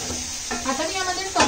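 Tomatoes stirred into a hot pan while cooking a paneer masala gravy, giving a steady close sizzle with scraping stir strokes and a louder burst near the end.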